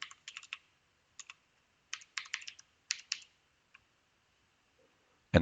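Typing on a computer keyboard while entering a file path on a Honeywell Android device setup: quick clustered bursts of key clicks separated by short pauses, close and fairly quiet, with no talking.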